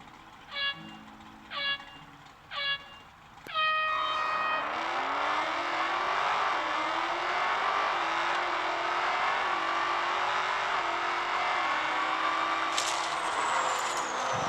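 A McLaren P1 GTR races in the Real Racing 3 mobile game: four short electronic start beeps, then a loud engine roar that climbs through repeated gear shifts, ending in a sharp high screech.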